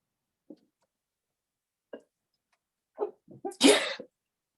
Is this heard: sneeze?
yes